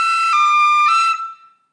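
Tin whistle plays a short phrase from the Irish tune Cailleach An Airgid (The Hag With The Money), three clean sustained notes stepping upward and then back, bright and close, fading out at the end with no talking.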